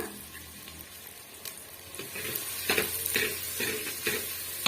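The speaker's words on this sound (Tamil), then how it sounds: "இது கூடவே நம்ம கருவேப்பிலையும் வந்து சேர்த்துக்கலாம் சேர்த்துட்டு நல்லா வந்து வதக்கி விட்டுடலாங்க" Sliced onions and curry leaves sauté in oil for a chicken curry, a quiet close sizzle that picks up as a spoon stirs them in several scraping strokes.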